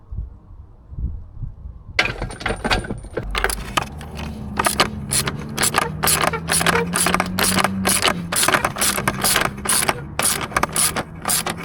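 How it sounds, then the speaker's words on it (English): Metal clinks, ratcheting and tool clatter from work underneath a car during gearbox removal on a driveway, with a jack in place; dense, close, steady mechanical rattling and jangling that starts abruptly and continues throughout. "remove the bottom bolt and then the top one, and then pry it out"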